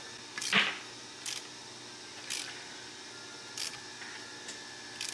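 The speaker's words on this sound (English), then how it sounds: "Probably do them with a ratchet." A 3/8 ratchet tightens bolts on a cracked Jeep cylinder head, giving sharp, quiet single clicks roughly once a second with no talking.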